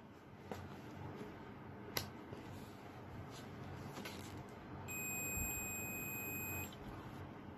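A multimeter gives a continuity-test beep while its leads are checked against the body of a contact point ignition system, heard as a steady tone of under two seconds over faint background clicks and handling noise.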